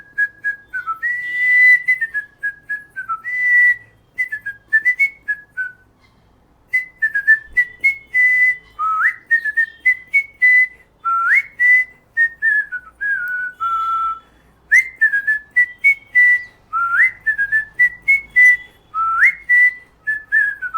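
Solo human whistling of a western classical melody, a bright clear tone with flowing phrases and quick ornamented slides, close and steady with short breaths between passages.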